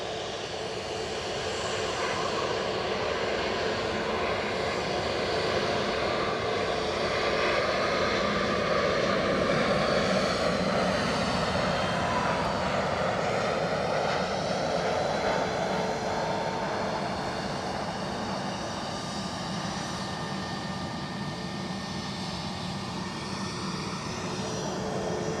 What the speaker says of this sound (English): this is our American Airlines Dreamliner